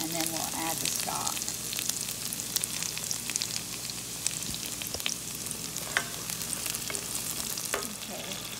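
Onions frying in a pan, a continuous crackling sizzle with scattered pops and occasional utensil clicks throughout, moderately quiet and heard without talking.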